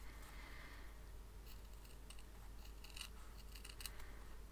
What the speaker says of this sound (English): Just fold this up, give me a line to cut along